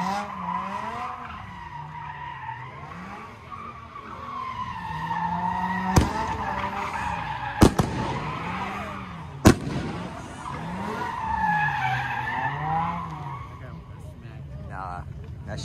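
Loud, close BMW M6 skidding with tires squealing in long wavering arcs over a revving engine, broken by a few sharp bangs.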